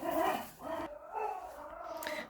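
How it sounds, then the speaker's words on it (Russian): A house dog letting out a short run of yelping, whining barks indoors, fairly close and moderately loud, with brief pauses between bursts. "Побежал туда лаять."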